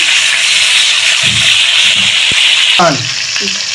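Hilsa fish pieces frying in hot oil, a loud steady sizzle throughout, with a brief clatter as a piece is turned over partway and the sizzle dropping slightly afterward.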